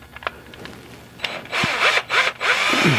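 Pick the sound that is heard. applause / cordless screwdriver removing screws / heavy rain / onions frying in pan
cordless screwdriver removing screws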